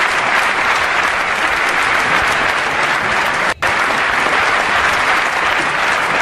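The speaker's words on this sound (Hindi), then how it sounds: "और सुनना चाहते हैं तो एक बार तालियां बजाए पूरा मजमा।" A full audience claps loudly at a mushaira poetry gathering, dense, even applause that runs without letup for over six seconds, broken only by a split-second dropout near the middle.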